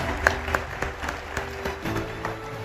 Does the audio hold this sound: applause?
yes